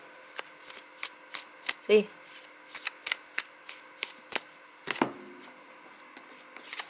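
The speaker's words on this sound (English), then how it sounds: "it shuffles nicely" Tarot cards riffle and snap in repeated bursts of shuffling, close and crisp, with a short spoken remark partway through.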